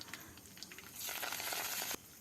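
Urad dal frying in two spoons of oil for a bottle gourd sambar, a soft, steady sizzle and crackle that thickens midway and then drops off, faint and close, with no talking.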